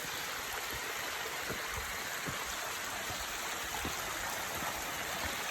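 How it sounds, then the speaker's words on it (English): Water rushes down an eroded beach cliff at Watcombe Beach, a steady broadband babble of flowing water with small splashes throughout, fairly close and without voices. "There's a river running down here"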